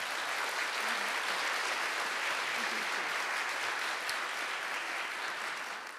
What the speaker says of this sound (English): I just want to give a quick round of applause to our panelists here today.